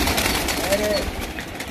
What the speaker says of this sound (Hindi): ये उस्ताद साहब दे कबूतर उड़ गए